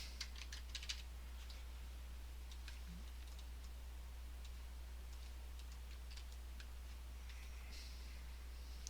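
Light clicks of fingers typing on a computer keyboard while entering a zip code, a few faint scattered taps over a steady low hum with no voices.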